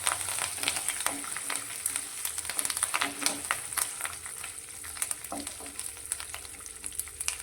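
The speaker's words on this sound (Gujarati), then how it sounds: "બધી જ વસ્તુને આપણે એક મિનિટ માટે સાંતળી લઈશું" Curry leaves and spices sautéing in hot oil for onion chutney, a steady close sizzle with crackles and occasional stirring scrapes throughout.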